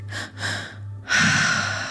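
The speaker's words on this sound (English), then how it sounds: "we're still breathing" Deep breathing during a guided breathwork exercise, two soft breaths followed by a louder, sharper inhale, close and clear with no talking.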